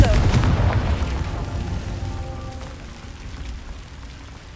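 A Confringo blast spell goes off in Hogwarts Legacy: a loud booming burst at the start that rumbles and fades over several seconds, with a voice speaking over it.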